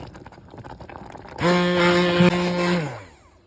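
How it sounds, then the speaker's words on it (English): An immersion blender whirs steadily for about a second and a half as it purées Malabar plum jam, the cooked pulp and reduced juice together, loud and close, then spins down. "Now I'm gonna hit it with the emulsion blender."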